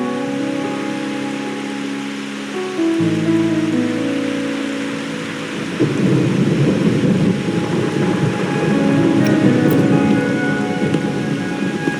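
Rain and thunder in the video game Wuthering Waves: a steady wash of falling rain with deep rolling thunder swelling midway, loud and continuous with no voices.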